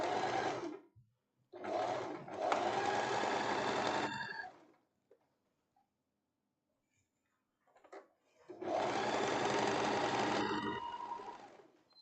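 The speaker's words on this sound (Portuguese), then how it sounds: "vamos costurando aqui parte das costas" A sewing machine stitches the back panel of a wrap tank top in three loud, steady bursts of rapid whirring, separated by pauses of near silence.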